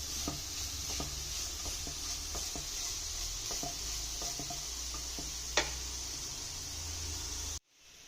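Cabbage sautéing in a pan for a Kerala cherupayyar and cabbage thoran, with a steady sizzle and scattered clicks of stirring throughout, one sharper knock near the end before it cuts off.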